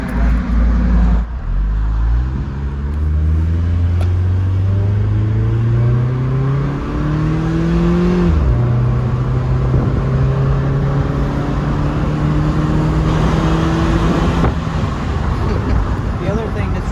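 Inside a 1969 Chevrolet Camaro Z/28 with its original 302 small block, the engine drones loud and steady under road noise, its pitch climbing through the gears with brief dips at each shift, while people talk in the cabin.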